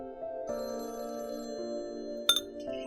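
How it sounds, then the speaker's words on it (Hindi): A telephone rings with a steady electronic ringtone, quiet and alone in a calm room, with a small clatter near the end. "फोन आ गया पापा, पकड़ो।"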